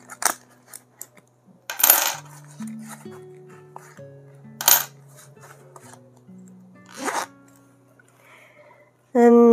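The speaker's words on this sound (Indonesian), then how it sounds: "hanya tersisa ini uang koin aja yang belum aku keluarkan" Coins are poured out and handled for counting, with several sharp metallic clattering bursts separated by quieter stretches where low tones hum underneath, ending in a loud sustained sound.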